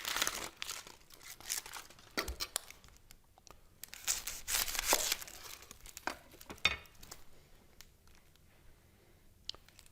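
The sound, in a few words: peeling the dry skin off a sweet onion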